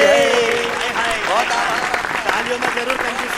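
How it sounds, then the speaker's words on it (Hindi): Audience applause at a Hindi poetry recital, a dense patter of clapping from a crowd that fills the room, with voices talking and calling out over it throughout. "तालियों में जरूर कंजूसी है दोस्तों"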